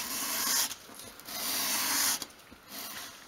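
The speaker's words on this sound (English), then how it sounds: "have your sandpaper on your worktop, hold the piece at a 45 degree angle and sweep it towards you" A small wooden piece for a 1/12th scale card catalogue unit is swept at an angle across sandpaper on a worktop to bevel its edge, giving two long, soft rasping strokes with a brief pause between them.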